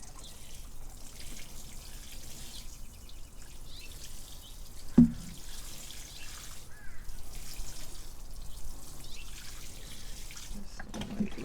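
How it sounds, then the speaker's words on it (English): Water poured gently over newly planted Tiny Tim tomato and marigold seedlings, making a faint, steady trickle and dribble outdoors, low and soft for the whole stretch, with one brief knock midway. "I'm going to go ahead and water these in."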